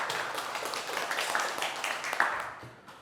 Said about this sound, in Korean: 박수 한번 보내줄까요?